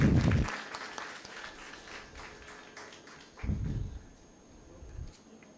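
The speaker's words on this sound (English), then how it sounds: "Let's have a huge round of applause for our quarter-finalists." Light, thinning applause from an audience at a university moot court competition, a handful of claps fading out, with low thumps and some quiet background voices.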